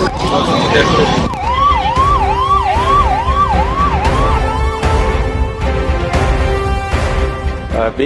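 Wailing siren of a pilot escort vehicle moving ahead in traffic, a rapid repeating yelp cycling up and down loudly over road and engine noise, then shifting to a steadier tone.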